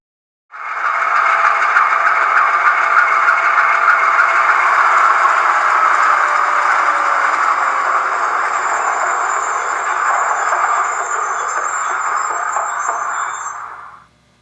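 HO scale GE U25B model locomotive from Rapido running its shutdown sound through a small onboard speaker, a steady buzzy diesel drone that holds for about thirteen seconds before cutting off abruptly.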